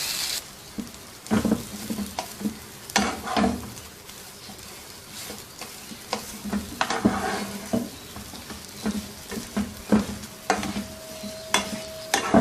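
Mashed potato stuffing for khasta aloo kachori frying and being stirred in a pan, with steady low sizzling and repeated scraping spoon strokes over about twelve seconds.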